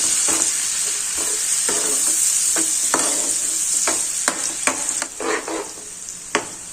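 Onions sautéing in a pan produce a loud, close, steady sizzle with repeated scraping stirs at irregular intervals, growing choppier and more clattery toward the end.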